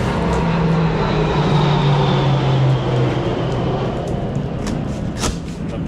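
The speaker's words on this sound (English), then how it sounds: "It was a plane. Flew right over us landing." An airplane passes low overhead while landing, giving a loud, steady drone with a sustained engine tone that fills the whole stretch, heard outdoors near a storage unit.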